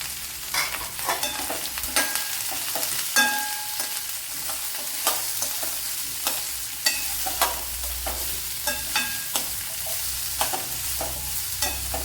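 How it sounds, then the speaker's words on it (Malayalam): Finely chopped large onion frying in oil for a drumstick dish, a continuous close sizzle broken by regular sharp scrapes and taps of a spoon stirring against the pan, with no talk. "വലിയൊരു സവാള ഇതുപോലെ നൈസായിട്ട് അരിഞ്ഞെടുത്തിട്ടുണ്ട്, അതും ഇട്ട് കൊടുക്കുക"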